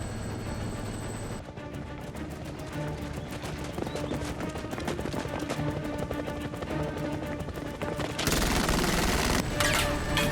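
Rapid sci-fi gunfire hammers at a ship near a landing area by a dome, a dense rattling fusillade of bursts that runs on steadily and loud, then swells into a harsher, louder barrage near the end.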